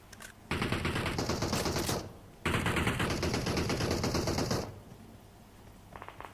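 Bursts of rapid automatic gunfire in a shooter video game, two long sustained volleys separated by a short pause, then quieter scattered shots near the end.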